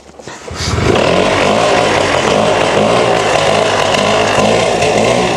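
A restored scooter's small engine catches after a brief cranking sputter, then runs loud and close with a steady buzzing, rasping idle that holds for several seconds.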